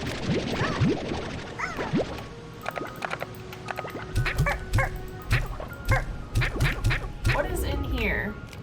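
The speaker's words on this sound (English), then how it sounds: "Seagulls." Seagulls in the video game Slime Rancher 2 give repeated yelping, squawking cries that come in quick bursts over steady game ambience, some near and loud, others fainter.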